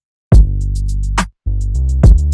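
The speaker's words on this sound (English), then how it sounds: "you can hear the kick and the bass and the drums interacting" A hip-hop beat plays its kick, bass and drums together, with booming low bass notes, sharp hits and light hi-hat ticks in short loud phrases separated by a brief gap.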